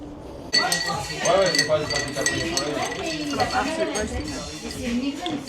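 Glasses clink together in a toast among a group inside a camper van in France, bright chiming taps coming in a short cluster over lively overlapping talk and cheering voices.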